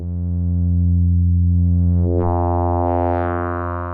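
A sustained modular synthesizer tone built with FM and oscillator sync, a dense harmonic drone that brightens and shifts timbre partway through as the modulation changes, playing alone and loud throughout.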